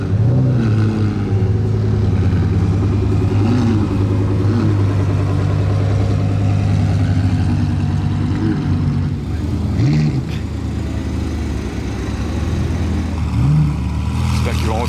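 Mercedes C63 AMG and BMW M4 cars circling one after another in a parade lap, engines rumbling and revving at a distance under steady crowd chatter, with a few louder surges.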